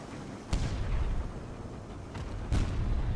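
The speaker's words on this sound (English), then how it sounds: "He's no match for my Jerusalem cannon" A Jerusalem cannon fires in the video game Sunless Skies, two heavy booms about two seconds apart over a dense, rumbling game background.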